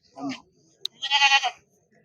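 Goats at a Saturday livestock market in Ettayapuram, Thoothukudi give short bleats, one near the start and a longer wavering one after a brief sharp click, close and fairly clear against quiet.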